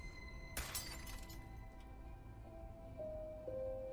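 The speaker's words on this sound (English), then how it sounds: "And then I heard glass break." Glass shatters with a sudden bright crash, followed by a second or so of tinkling fragments settling, then a quiet room with a faint lingering tone.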